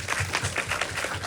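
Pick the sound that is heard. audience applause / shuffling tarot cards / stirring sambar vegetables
audience applause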